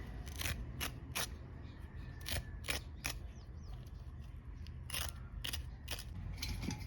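Bitter gourds are being scraped by hand, giving repeated short, crisp rasping strokes in an uneven rhythm, close and fairly quiet over a low steady background hum, with no talking.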